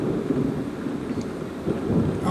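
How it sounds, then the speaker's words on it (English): Early-morning thunderstorm with a steady wash of rain and low, continuous rumbling thunder that swells slightly near the end, loud and close throughout with no talking. "Second day, here comes another storm."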